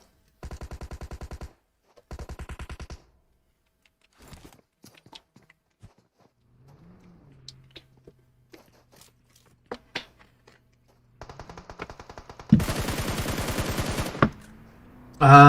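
Gunfire in the mobile battle royale game PUBG Mobile: short bursts of automatic fire separated by quiet gaps with scattered single shots and footsteps, then a loud, dense final volley.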